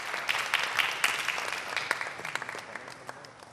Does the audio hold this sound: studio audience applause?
yes